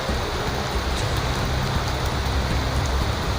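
Heavy rain pours down in a dense, steady hiss, loud and close, with no talking.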